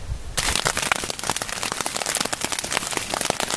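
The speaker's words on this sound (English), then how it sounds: "It's a hailstorm" Hail pelting down in a storm on an exposed mountain ridge at 11,000 feet, a dense, steady rattle of countless small impacts that starts abruptly after a brief quieter moment and continues loud and crackling throughout.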